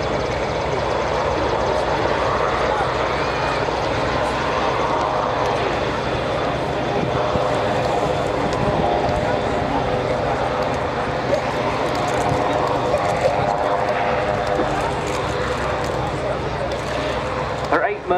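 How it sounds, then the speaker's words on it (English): A large Royal Navy Merlin HM2 helicopter hovers at an air display, its loud, steady rotor thrum and turbine whine filling the air continuously, with a commentator's voice over the public address. "you can see what a very, very large helicopter this is."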